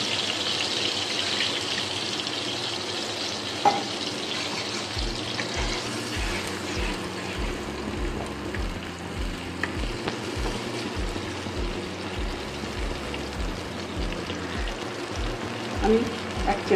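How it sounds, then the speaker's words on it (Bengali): Tomato, green chili and ginger-garlic paste fry in oil left from frying paneer, a continuous hissing sizzle with watery bubbling and a few clinks of a spoon, steady and close. "আমি টমেটো ওই তেলেই টমেটো, কাঁচা লঙ্কা, আদা রসুন পেস্টটা দিয়ে দিচ্ছি।"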